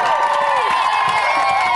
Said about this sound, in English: Dan, give him a big round of applause